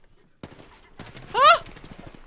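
Rapid bursts of gunfire in the battle royale video game Apex Legends: sharp shots that start abruptly, then a denser run of repeated reports and a loud swelling burst mid-clip.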